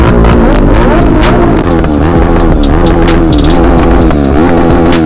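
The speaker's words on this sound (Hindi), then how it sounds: "गाइस सुनो सुनो सुपर बाइक का साउंड," Superbike engines revving hard on an Independence Day group ride, loud and close, with repeated throttle blips and overlapping exhaust roars from several bikes.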